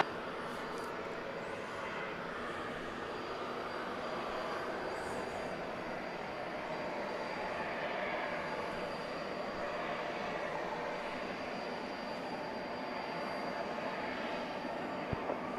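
A Delta airliner taking off from runway 8 right at Atlanta at night gives a distant, steady engine roar that holds evenly throughout at moderate loudness.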